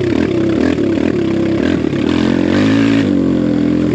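A BBR KLX170RF dirt bike with an aftermarket exhaust revs hard and close, its engine note loud and continuous, rising and falling with the throttle with no talk over it.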